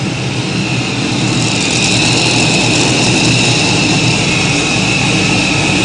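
A pulling tractor's engine roars at full power in a competition arena, one loud, constant, unbroken drone with heavy low rumble and no letup.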